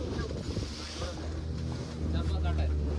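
Small boat on a dolphin-watching trip pitching over a stretch of sea waves, with a steady low engine drone, splashing water and wind buffeting the microphone, the rumble swelling louder toward the end.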